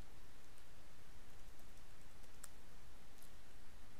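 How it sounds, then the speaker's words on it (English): Clicky keystrokes on a computer keyboard as a name is typed in Windows, faint and scattered over a steady background hiss, with a few sharper taps standing out. "type in a name"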